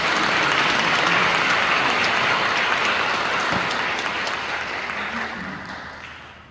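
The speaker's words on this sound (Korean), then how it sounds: "박수로 환영해 주십시오." A crowd claps steadily in welcome for honored guests at a university's 85th anniversary ceremony, sustained dense applause that slowly tapers near the end.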